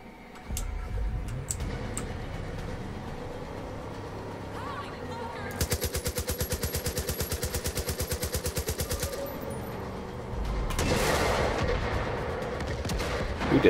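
Fast, even automatic gunfire in Far Cry 5's Hope County rattles in a sustained burst of several seconds from a moving vehicle, set between quieter stretches of game sound and a louder rumble near the end.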